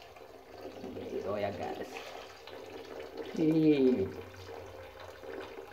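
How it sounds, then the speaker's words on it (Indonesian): A kitchen tap runs while rice is rinsed before cooking in a rice cooker, a steady low splashing flow that swells briefly, with a voice speaking over it. "kita buka lagi ya kerannya ya guys"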